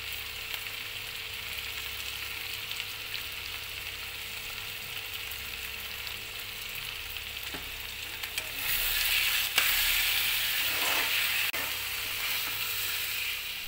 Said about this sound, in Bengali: এবার আমি হালকা কষিয়ে নিয়ে ধনে জিরে গুঁড়োটাও দিয়ে দেব